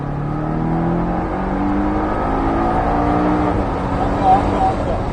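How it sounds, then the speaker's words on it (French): A Porsche Cayman S accelerates hard on a race track, its engine a steady, loud drone with slowly rising tones that carries continuously for several seconds. "On commence à débraquer, à accélérer à fond."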